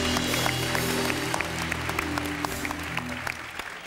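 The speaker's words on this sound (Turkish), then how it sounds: "Bir alkış daha alalım kendisi için." Studio audience applause on a Turkish television talk show, steady clapping over a sustained low musical hum, with a few sharper individual claps standing out.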